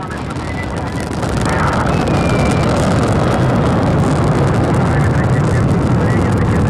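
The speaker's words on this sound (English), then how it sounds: "And liftoff of the 86 Progress resupply vehicle for its 34 orbit journey to the International Space Station." Roscosmos Soyuz 2.1a rocket carrying the Progress MS-25 resupply vehicle lifting off from Baikonur, a loud, continuous broadband roar that swells after the first second and holds steady, buffeted by wind noise.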